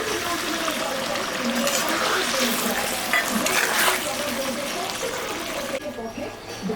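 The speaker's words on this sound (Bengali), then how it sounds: "জলটা দিয়ে দিচ্ছি, সিদ্ধ হবে" Hot water is poured into a pot of mutton curry, giving a steady rushing splash and sizzle that fills the scene for several seconds before tapering off near the end. It sounds loud and close.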